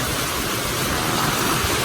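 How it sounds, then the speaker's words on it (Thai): Heavy rain pours down with water gushing, a dense, even roar of broadband hiss that stays steady and loud throughout, with no voices. "ฝนตกนะคะน้ำพุ่งเลย"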